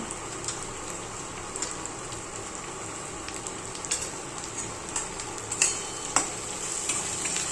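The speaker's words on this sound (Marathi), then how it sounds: "हे सगळं आहे ना एकदम छान असं फ्राय होऊन द्यायचं आहे" Green masala paste with coriander spice powder frying in a pan for a pomfret (pavta) curry, a steady soft sizzle with scattered stirring scrapes and clicks throughout, close and moderately quiet, no talking.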